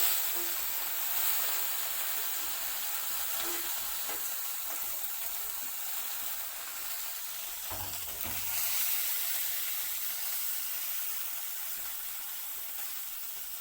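Chanderi fish frying in hot oil in a kadai, a steady moderate sizzle with occasional crackles and faint clinks, close and continuous throughout with no talking.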